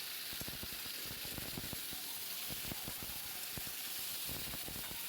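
Pieces of ridge gourd dropped into a hot pan sizzle and hiss steadily, with rapid crackling pops scattered through a constant bright frying hiss, close and fairly quiet, no voices.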